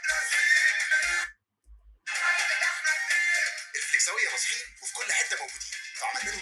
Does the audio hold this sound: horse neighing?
yes